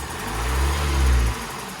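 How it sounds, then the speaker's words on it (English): A 2017 Ford Transit Custom 2.0 diesel van with a suspected injector leak revs up, the engine note swelling to a loud, sustained roar before dropping back toward idle, with no talking. "I'll wait till Chris stops revving it and we'll let it tick over."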